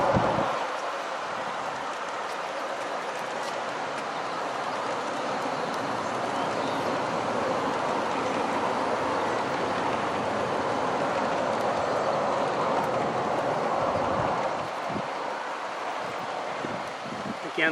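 A G scale model train of 20 cars with a caboose rumbles steadily along its track outdoors, a continuous broad rolling noise mixed with wind buffeting the microphone, loud and close throughout.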